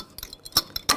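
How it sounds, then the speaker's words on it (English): Front brake pad on a 2009-2017 Volkswagen Tiguan unclipped from the caliper piston, giving a few short, light metallic clicks and clinks close by, with the sharpest snaps near the end. "Disconnect the brake pad. It's just clipped in"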